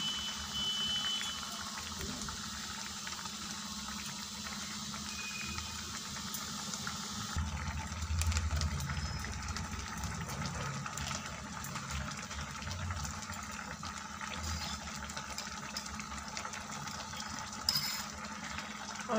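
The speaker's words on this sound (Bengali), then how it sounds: "বড়াগুলো দিয়ে মিনিট 5 মতো ফুটিয়ে নেব।" Egg fritters (bora) simmer in a potato curry in a pot on a gas stove, a steady, fairly quiet bubbling and boiling that runs on with little change.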